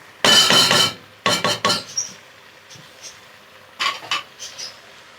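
Meat and rice with turnips sautéed in a pot, stirred with a metal spoon in loud bursts of scraping and clattering separated by short quiet gaps.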